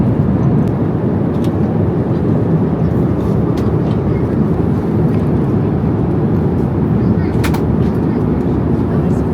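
Inside an airliner cabin on a long-haul flight to Hong Kong, a loud, steady low roar of engine and air noise drones on without a break, with faint clicks and rustles scattered through it.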